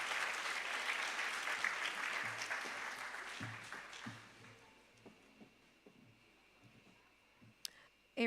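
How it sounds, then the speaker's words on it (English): Applause at a school graduation ceremony, a crowd clapping that starts full and gradually thins out into a few scattered claps and small clicks before dying away. "A round of applause again for Ms."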